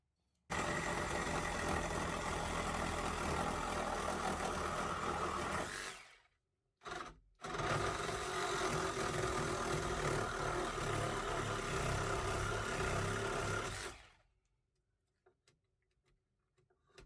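An Einhell GE-GS 18 cordless reciprocating saw runs idle at reduced stroke rate, giving a steady buzzing drone that stops briefly, restarts, runs about six more seconds and then cuts off into quiet.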